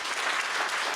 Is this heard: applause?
yes